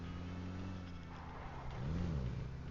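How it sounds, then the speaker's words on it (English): A car engine in a multiplayer shooter game rumbles steadily, then swells briefly as it revs or passes near the end, with no talking. "And there was a car, I think."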